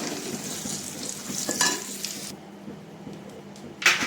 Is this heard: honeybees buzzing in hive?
no